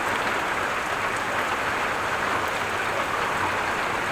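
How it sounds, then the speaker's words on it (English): Heavy rain pours down outside a home in Groningen, a constant, dense hiss of drops on grass and surfaces, loud and unbroken throughout. "It's still raining quite hard."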